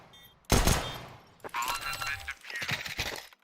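A sharp gunshot headshot in a Counter-Strike 2 match, one loud crack followed by scattered quieter impacts and game noise over a few seconds.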